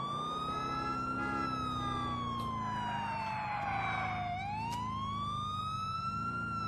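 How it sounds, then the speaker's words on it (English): A wailing police siren in Grand Theft Auto IV sweeps steadily up and down over a low engine rumble, loud and continuous with no voices. "I don't even need the sirens on."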